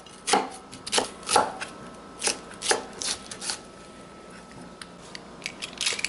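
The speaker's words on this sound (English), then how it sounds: "Peel and chop the onion." Knife chopping a peeled onion on a cutting board while prepping fried rice, giving about a dozen crisp, close thuds in an uneven rhythm with short pauses between bursts.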